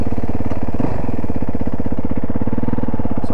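A motorcycle rolling slowly with its engine running, a loud, close, steady low pulsing throb with an even rhythm throughout and no talking.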